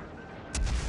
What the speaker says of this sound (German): Jetzt mal wieder klassisch schießen hier.